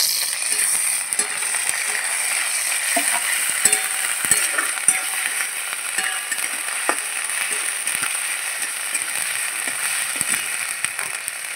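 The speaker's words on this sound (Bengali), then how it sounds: "পেঁয়াজগুলো দেখুন হালকা লাল করে ভেজে নিয়েছি। বেটে রাখা আদা আর রসুন দিয়ে দিচ্ছি।" Sliced onions frying in hot oil with ginger and garlic paste being added, a steady bright sizzle carrying through the whole stretch, broken by occasional clicks and scrapes of stirring.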